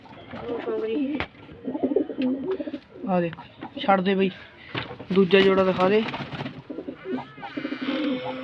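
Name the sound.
pigeons cooing in a loft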